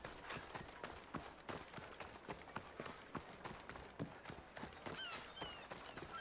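A horse gallops in a video game with a fast, steady run of hoofbeats, loud and close, and no voices over it.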